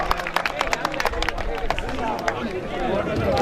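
Crowd applause at an outdoor fair and horse event, dense rapid clapping from many hands mixed with crowd babble and some voices, steady and fairly loud throughout.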